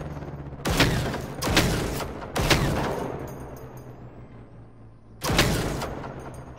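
The PVG-90 experimental weapon fires in Generation Zero, with four loud, sharp bursts of gunfire spaced irregularly, each decaying into a short rumbling tail.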